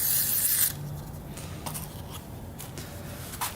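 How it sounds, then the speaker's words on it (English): A can of WD-40 sprays a brief, close, hissing burst into a hole in a Honda CR80 dirt bike carburetor, followed by quiet rubbing and handling noises. "Spray a little WD-40 down here."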